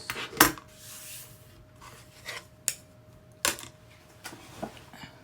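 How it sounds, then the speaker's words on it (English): Scissors trimming a small scrap of fabric while making puffy hanging hearts: a few quick, crisp snips and rustles, one sharper near the start and others scattered after it, close and quiet, with no voices. "I'm just going to trim off that little piece."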